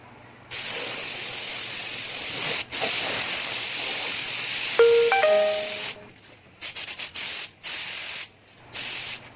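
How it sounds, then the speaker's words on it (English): Loud, steady hiss of compressed air blowing over a Vespa's metal surfaces in long bursts, followed by several short sharp blasts with brief pauses between them. "Clean again using compressed air and wipe it down."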